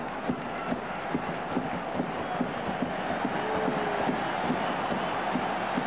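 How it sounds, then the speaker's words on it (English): A large crowd at a 1991–92 Rugby Union County Championship match between Cornwall and Lancashire chants in a steady rhythm, regular pulses roughly every half second under a constant, fairly distant roar. "So the crowd follow the rhythm"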